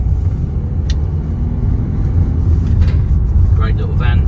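A 2018 Citroen Berlingo 1.6 BlueHDi diesel van with 36,700 miles is driving along a road, giving a steady, close low engine and road rumble, with some brief higher noises toward the end.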